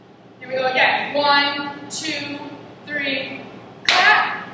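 A pair of sharp hand claps keeps time in a basic hip hop dance routine, the two hits spaced a couple of seconds apart, close and clear amid steady spoken counting.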